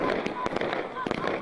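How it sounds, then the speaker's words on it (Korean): New Year fireworks set off in front of a students' and children's palace in Jagang Province, North Korea: a rapid series of sharp crackling bangs and bursts, fairly distant, with voices faintly underneath. "배움의 천리길 학생선인 궁전 앞에서는 불꽃놀이가 진행됐습니다"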